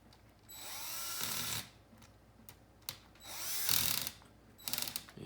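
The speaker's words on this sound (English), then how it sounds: "I do happen to have an electric screwdriver too. I've been doing a lot of stuff by hand, but I like to use the low torque setting" An electric screwdriver on a low torque setting drives screws while assembling an S550 hexacopter frame: three short, close whirring bursts separated by pauses, with small clicks and ratcheting slips in between.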